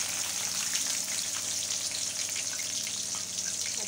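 Onion frying in a kadai in about two tablespoons of oil with mustard seeds and cumin, giving a steady, close, dense sizzle with fine crackles and no voices, even throughout.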